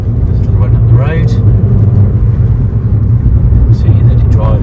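A 2020 Toyota Aygo 1.0 VVT-i X-Trend hatchback driving up a road with about 10,900 miles on it, giving a steady, loud low engine and road rumble throughout, with faint voice-like murmurs on top.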